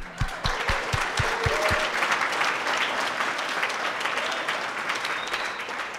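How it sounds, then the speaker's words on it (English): Guests at a chamber of commerce and tourism bureau annual celebration applaud, a few sharp low thumps opening into sustained, full clapping that stays strong across the room. "A round of applause for that move"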